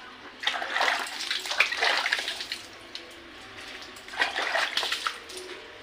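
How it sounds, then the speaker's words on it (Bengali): Water is poured over someone's head during a bath: two distinct splashing gushes a few seconds apart, close and moderately loud, with quieter dripping between them. "তুমি স্নান করো, আমি মাথা জল ঢেলে দিচ্ছি"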